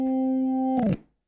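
A Hammond organ holds a bright, steady chord for most of the second before it bends and drops away in a short, noisy smear, then cuts off into silence. The blues lick is loud and close, with no talking.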